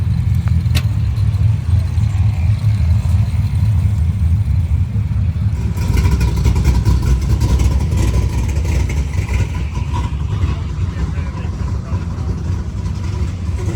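A turbocharged Predator 670cc racing rail engine runs hard at the track, a loud continuous rumble that jumps sharply in intensity midway as full throttle opens up, heard close by.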